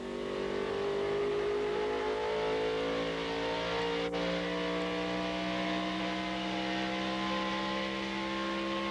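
NASCAR Xfinity race cars battle for ninth place, heard as a steady, loud engine drone with rising and shifting pitch, passing close for several seconds with no talk.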